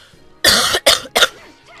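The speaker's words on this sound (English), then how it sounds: "Cough." Three sharp coughs in quick succession, loud and close, with a short gap between the first and the other two, then quiet.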